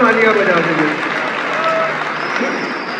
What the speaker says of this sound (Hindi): अगर भाइयों का समर्थन हो तो तालियां बजा देंगे।